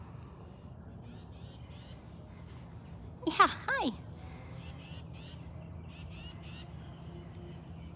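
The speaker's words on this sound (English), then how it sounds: "the birds are just on fire today. Everyone's making noise." A crow-like bird gives a couple of loud, harsh squawking calls up close at a big cat rescue sanctuary, with faint chirps in the background and a brief greeting spoken.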